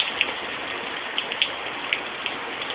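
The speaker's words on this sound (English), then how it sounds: "Look at this fucking rain." Steady rain falls outdoors in cold weather, a dense, even hiss with scattered louder drops hitting a surface close by.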